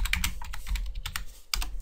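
Keys clatter on a computer keyboard as a Bible verse is typed into a search box, a quick, irregular run of close, crisp taps with short pauses and no talking.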